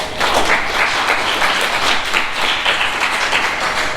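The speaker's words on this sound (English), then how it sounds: "Give him a round of applause" Lively round of applause from a Toastmasters club meeting audience for an evaluator, dense and even, with rhythmic pulses of clapping running steadily for about four seconds.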